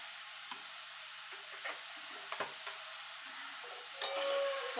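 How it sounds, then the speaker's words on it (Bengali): Jujube (kul) pickle stirred in a pan, a soft scraping and faint sizzle with a few light clinks of the spoon against metal, fairly quiet and steady. "এবার ভালো করে নেড়ে নেবো"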